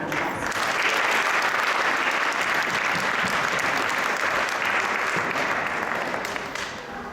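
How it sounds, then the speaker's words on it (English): An audience at a temple festival celebration at ISKCON Toronto claps in a sustained, even round of applause that holds steady for several seconds and then tapers off at the end. "We can give another round of applause."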